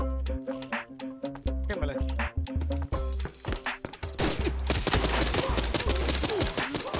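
Gunfire in the video game Arena Breakout rings out as a rapid series of sharp, loud cracks, sparse at first and then dense and fast, mixed with impacts and a steady background hum.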